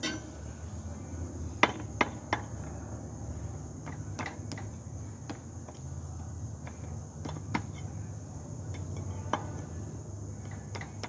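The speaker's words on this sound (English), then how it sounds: "I guess I'm going to hammer down these pins and start taking this off." Pins on a Dodge 537-C automatic transmission are hammered out during teardown, giving scattered sharp metallic clinks, a few close and loud, over a steady high insect-like hiss.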